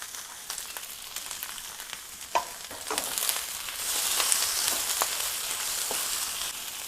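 Cabbage fries in a pan with a steady crackling sizzle, close and moderately loud, growing busier and hissier partway through, with occasional sharp pops and clicks.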